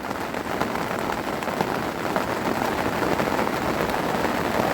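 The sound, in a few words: rain falling on a lake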